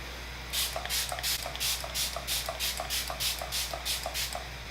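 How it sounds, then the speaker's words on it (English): Rapid, even pumps of MAC Fix Plus setting spray misted onto a face, about a dozen quick hissing bursts in a steady rhythm, close by with no talking. "I'm just gonna spray my face with MAC Fix Plus, just drench my face."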